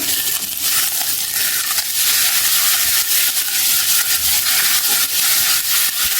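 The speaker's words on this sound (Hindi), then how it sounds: "इसमें मैंने 2 टेबल स्पून अदरक लहसुन पेस्ट लिया है, ये डाल देंगे। 1 मिनट पकाऊंगी इसे।" Two tablespoons of ginger garlic paste cook in a pan with golden fried onions. A loud, continuous close-up hiss and sizzle carries light clinks of a stirring spoon, with no talking.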